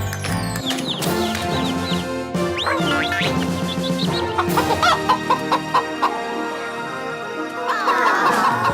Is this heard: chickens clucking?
yes